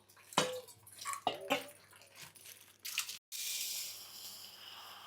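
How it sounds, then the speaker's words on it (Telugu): Chittimutyalu rice being washed in water for biryani, with several splashy swishes and sloshes close by, then a steady rush of running water at the end. "ముందుగా ఏంటంటే చిట్టుముచ్చాలు కడిగేసుకుని పక్కన పెట్టుకుంటాను."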